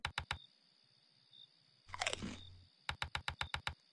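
A crunchy bite of food in the horror video game Dinner Time: one short, close crunching burst, with rapid sets of sharp clicks before and after it.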